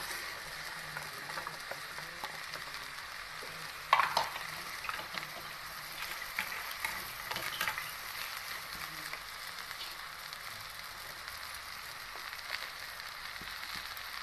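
Okra goes into a pan with oil and crushed peanuts to be stir-fried. A faint, even sizzle runs throughout, and a brief clatter and spatter near the start marks the vegetables landing in the pan. No one speaks.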